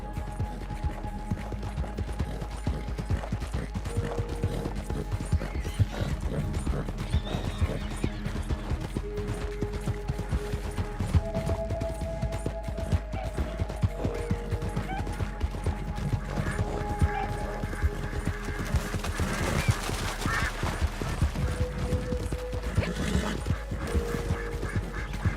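Horse hooves clip-clop steadily in the Red Dead Online video game, a continuous rhythmic trot under a busy in-game soundscape with scattered tones and a low rumble throughout.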